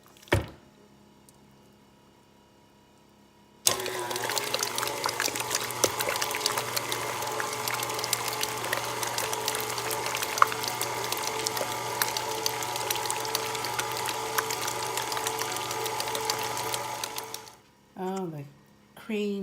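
Electric mixer blending four packs of cream cheese for a keto cheesecake filling, a steady close whirring drone that starts suddenly after a quiet lead-in and cuts off near the end, followed by brief talk.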